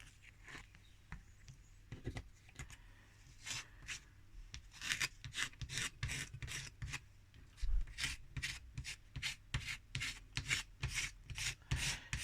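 A blade scraping a part inside a sparking microwave oven, heard as a steady run of short, rhythmic rasping strokes close by, growing more regular and louder after the first few seconds.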